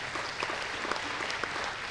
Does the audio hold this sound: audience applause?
yes